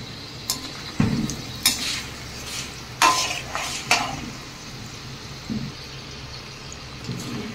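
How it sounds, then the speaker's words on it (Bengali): Suji and potato snacks frying in oil in a pan while being stirred, with scattered scraping clinks of a utensil against the pan over a soft continuous sizzle. "এভাবে নাড়িয়ে চাড়িয়ে দেবেন মাঝে মাঝে।"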